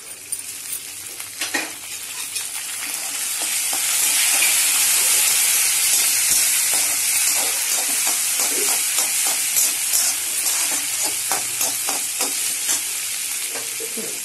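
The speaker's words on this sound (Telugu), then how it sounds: "అటుకుళ్ళు వేసుకున్నానండి బాగా కలుపుకున్నాను" Flattened rice pulihora stirred in a hot pan, a steady loud sizzle with repeated scraping and clattering strokes of the spoon, building after the first few seconds and continuing throughout without talk.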